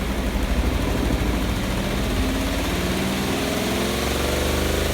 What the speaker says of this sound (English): And then we run the spinner.